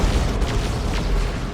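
A deep, rumbling explosion from an Eldritch Storm ability in the strategy game Dawn of War 2 rolls out in a dense, low boom with crackling bursts, alone and steady for a second and a half.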